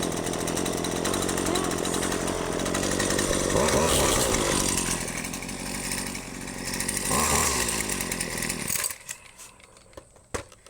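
A Husqvarna chainsaw is cold started, its engine roaring close and loud with revving that rises and falls, then cutting out near the end into a few sputters and clanks.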